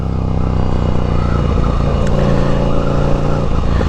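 A Ducati Scrambler motorcycle fitted with a Competition Werkes slip-on exhaust accelerates through the gears, its engine note loud and continuous with a pitch drop at a shift midway, heard close from the rider's position.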